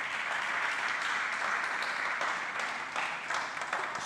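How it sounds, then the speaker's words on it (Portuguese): A church congregation bursts into steady applause, a dense wash of many hands clapping at moderate distance, sustained throughout with no clear speech on top. "Dá um aplauso ao Senhor aí"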